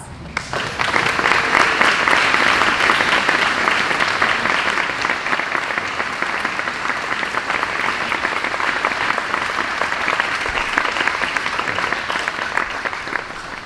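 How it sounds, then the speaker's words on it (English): A graduation audience gives a long, sustained round of applause for faculty and staff, dense crowd clapping holding steady for over ten seconds. "Please stand for a much-deserved round of applause."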